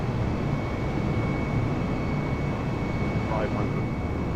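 Airbus A320neo engines on landing approach in Microsoft Flight Simulator 2020, a steady broadband roar with a faint high whine, continuous throughout with no break, and talk over it.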